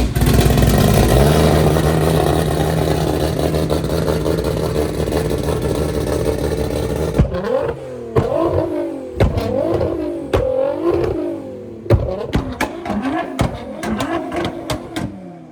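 A car engine with a new exhaust runs loud and steady for several seconds and then cuts off. Sharp knocks and clatters follow, spaced irregularly and closer than the engine.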